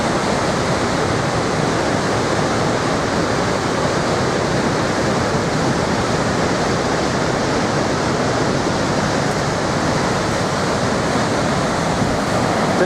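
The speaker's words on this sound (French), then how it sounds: "Tellement ça brasse de l'eau, on voit pas l'autre côté presque." Niagara Falls water churning, a dense, loud, unbroken roar of falling and crashing water with wind buffeting the microphone, steady throughout with no voices.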